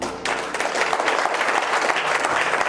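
A church congregation at a French-language worship service applauds together, dense sustained clapping that starts abruptly and continues evenly, loud and close.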